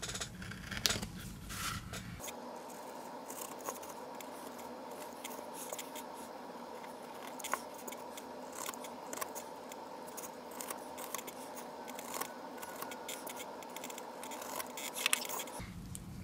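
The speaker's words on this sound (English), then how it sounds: "Go up to this with the X-Acto knife so I can have a clean corner there." An X-Acto knife carves a tiny figure in a close, quiet setting, making faint scattered scrapes and small ticks over a low steady background hum.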